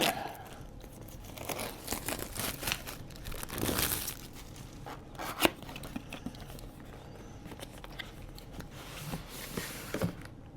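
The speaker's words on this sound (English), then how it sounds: "doing it completely where I have to remove the plastic and everything" Plastic wrapping is pulled and torn off the box of an Insta360 Luna Ultra camera, giving close, uneven bursts of crinkling and ripping, with no one talking.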